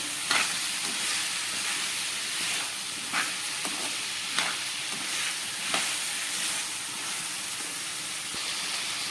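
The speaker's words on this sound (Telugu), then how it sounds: "దీనిలో టమాటా ముక్కలను అయితే యాడ్ చేసుకోవాలి. ఒకసారి బాగా కలుపుకోవాలి." Tomato pieces fry in a pan, giving a steady, close sizzle broken by periodic scraping stirs, with no voices.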